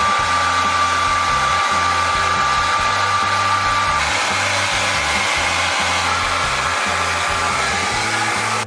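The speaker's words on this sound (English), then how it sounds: "get your hair dryer, put it on low heat," A hair dryer set on low heat blows steadily and loudly while drying a big beard, a constant whirring rush with a slight shift in tone partway through as it is moved.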